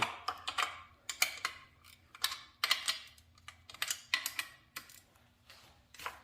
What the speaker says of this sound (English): We're just gonna use this ratchet wrench here.